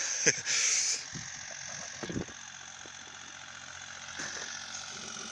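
Bulat 254 mini tractor running with a harrow in a field, its engine giving a steady mid-pitched drone and vibration with a few brief louder surges, while a person talks.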